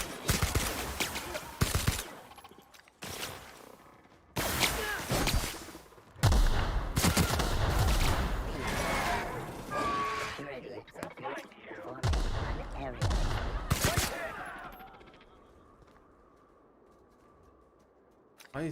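Bursts of gunfire while fighting enemies in The Outer Worlds video game, loud clustered volleys with pauses between them, a voice talking over parts of the shooting.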